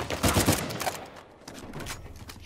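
Gunfire in the Uncharted 4 video game, a rapid burst of shots, loudest in the first second, then fainter scattered fire and background game noise.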